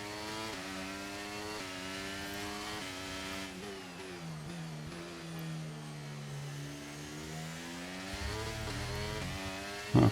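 A Formula 1 car in the F1 23 racing game at Barcelona screams at high revs, holding a long rising pitch through a late upshift before dropping and climbing again, loud and continuous.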